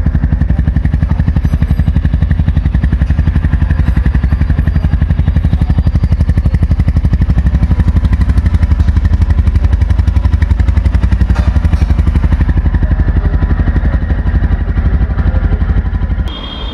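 A 2024 Royal Enfield Goan Classic 350 motorcycle exhaust thumps loudly and steadily at close range, a continuous rapid single-cylinder beat that holds for about sixteen seconds before dropping away at the end.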